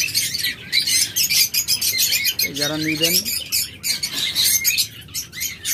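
Many caged lovebirds, budgerigars and cockatiels chirp and twitter densely and close, with someone talking briefly over the steady chatter.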